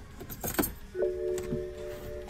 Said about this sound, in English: go ahead and turn your car back on again.